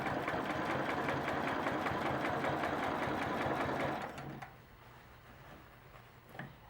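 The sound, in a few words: sewing machine stitching a quilt block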